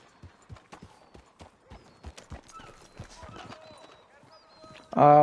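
Horse hooves clip-clopping in the video game StonerOutlaws Online, a steady run of soft hoofbeats heard up close, with a louder burst of sound at the very end.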